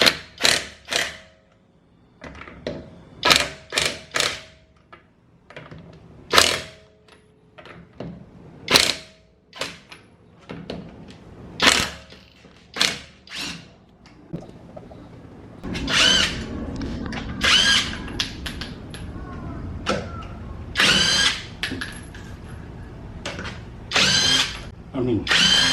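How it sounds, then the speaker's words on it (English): Lagatuns cordless impact wrench loosening the lug nuts on a tire, giving a series of short loud hammering bursts separated by pauses, then longer sustained runs toward the end, heard close up with no talking. "right now I'm in the process of using the impact wrench to take up the tire"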